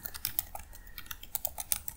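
Fingers type on a computer keyboard, an irregular run of close, crisp key clicks with short pauses, quiet and without talking.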